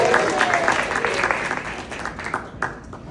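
A crowd applauds and cheers loudly at close range, clapping steadily and then tapering slightly toward the end.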